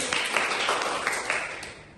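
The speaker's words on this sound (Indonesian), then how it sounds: "Betul sekali, kita berikan tepuk tangan." A class applauds a student's correct answer, with a handful of light, spaced-out hand claps that sound thin and fairly faint and fade toward the end.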